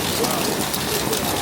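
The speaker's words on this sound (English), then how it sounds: "It's hailing now." Hail falls outdoors on a spring day in Washington as a steady, dense patter of rattling hits with no pauses.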